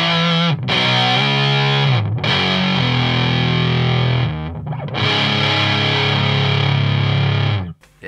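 An electric guitar through a Big Muff fuzz pedal into an amp plays thick, heavily distorted sustained chords, loud and close, with brief breaks between phrases.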